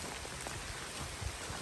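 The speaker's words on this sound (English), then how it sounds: "It's raining, and it's 70 degrees." Steady rain falls on the Appalachian Trail on a warm morning, a constant soft hiss of drops with a few heavier patters close by, no voices.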